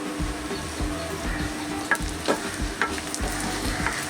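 Chilli pieces stirred into a frying tempering of finely chopped onion for a Jaffna-style dates chutney, giving a continuous close sizzle with repeated spatula scrapes and knocks against the pan at an uneven rhythm.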